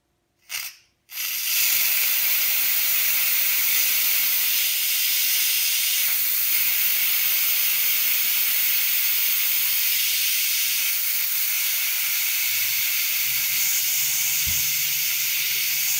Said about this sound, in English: We're gonna do the quick release now and hands away from where the steam is gonna come out